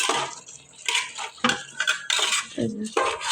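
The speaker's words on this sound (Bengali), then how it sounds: "ভালোভাবে নেড়ে ছেড়ে নিতেছি।" A spoon scrapes and clinks against a metal pot while stirring rice and lentils together with meat for khichuri, in close, irregular bursts of scraping and knocking, with no talk.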